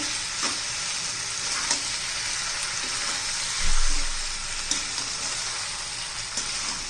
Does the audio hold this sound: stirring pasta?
yes